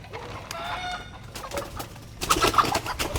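Chickens cluck softly nearby in scattered bursts, with light rustling and a livelier flurry toward the end.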